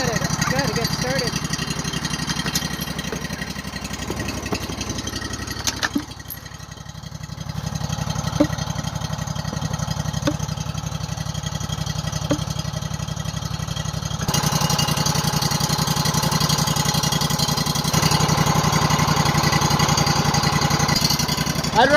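A sawmill engine runs steadily while milling rough cut lumber on an Alaska homestead, a loud continuous mechanical drone with rattling that dips briefly near the middle and then rises again, with people talking over it.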